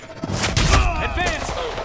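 Gunfire in the game Quantum Break, with a loud close burst of shots and thuds mixed with shouting voices and a rising whistle-like tone.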